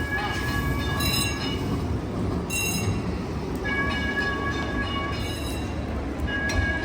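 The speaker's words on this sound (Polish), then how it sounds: "Jedzie tramwaj, jedzie tramwaj!" A tram rumbles past nearby on Istiklal Street in Istanbul's Beyoğlu district, with steady low rolling noise, high metallic wheel squeals rising and fading over it.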